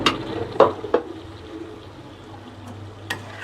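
Pieces of snakehead fish stir-frying in a pan give a low bubbling sizzle broken by a few spatula scrapes and knocks, fairly quiet and close.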